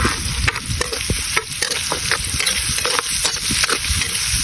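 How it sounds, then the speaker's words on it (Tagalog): Onion leek frying in a pan for coconut-milk adobo sizzles loudly and continuously, broken by repeated scraping stirs up close, with no talking. "Papakagisa lang muna natin ito."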